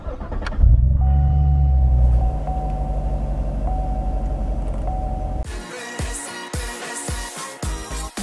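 A Chevrolet Corvette engine rumbles steadily while driving on a freeway, with road noise throughout and a sharper, rattling change in the sound near the end.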